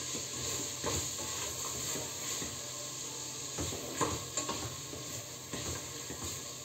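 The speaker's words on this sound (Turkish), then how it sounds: "Şimdi şöyle soğanla et biraz kavrulsun." Steady, dense sizzling of meat and onions frying in hot oil, crackling and hissing continuously with occasional stirring clinks.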